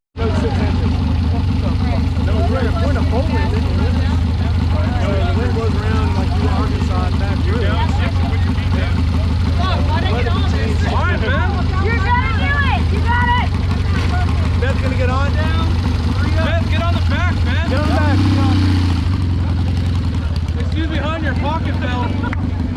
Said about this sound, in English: It's running. Fabulous, fabulous bike.